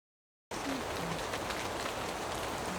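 Rain falling at Avalon Marshes, a steady, soft patter that starts suddenly and then continues evenly, with faint low tones in the background.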